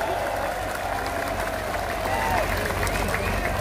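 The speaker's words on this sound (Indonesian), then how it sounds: "Tepuk tangan, ya?" A crowd at an Indonesian campaign event claps for police officers, a continuous mass of clapping with a voice speaking and a high tone running through it.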